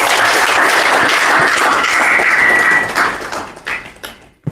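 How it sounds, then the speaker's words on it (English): Audience applause at a University of The Gambia History Society symposium: dense, steady clapping from a crowd for about three seconds, then thinning into a few scattered claps and fading. "Let's clap for them, please."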